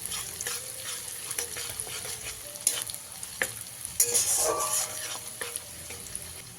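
Whole cumin seeds sizzle in hot oil while a utensil stirs and scrapes the pan, with intermittent clinks and a brief louder hiss.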